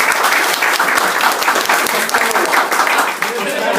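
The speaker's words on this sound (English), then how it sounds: "how about a big applause for Jason?" Dense, sustained applause from an audience at a workplace celebration honoring Jason, steady loud clapping filling the whole stretch without letting up.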